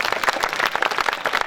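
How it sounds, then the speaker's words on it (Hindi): An audience at a night poetry gathering (kavi sammelan) in a school institute hall breaks into steady, dense applause to welcome a guest onto the stage, sustained clapping with no voices over it. "आप सब जोरदार तालियां बजा करके उनकी अगवानी करें"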